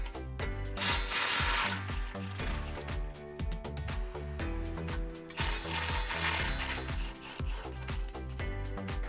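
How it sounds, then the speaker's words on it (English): A ratchet with a 16mm socket works loose exhaust flange bolts under a vehicle, giving close, rapid clicking in repeated bursts with short pauses between strokes. "grab your 16mm socket and disconnect these two bolts"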